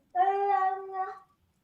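A pet cat lets out a single unusual, drawn-out meow about a second long, close and clear in an otherwise quiet room.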